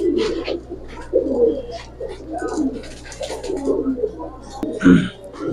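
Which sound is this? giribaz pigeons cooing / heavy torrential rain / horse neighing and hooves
giribaz pigeons cooing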